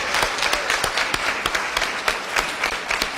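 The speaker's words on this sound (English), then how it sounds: "I want you guys to just give these candidates a round of applause." Audience applause for political candidates at a city candidate forum held in a church, a steady wash of many hands clapping with sharp individual claps standing out, fairly loud and continuous throughout.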